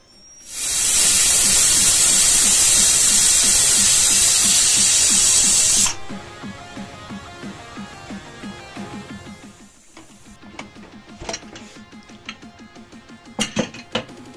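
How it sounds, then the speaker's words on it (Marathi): Pressure cooker on a gas stove with wheat lapsi inside, letting out a loud, steady hiss of steam for several seconds that cuts off abruptly, followed by softer rattling and clinking. "3-4 शिट्या होईपर्यंत त्याला आपण ठेवूया गॅसवर।"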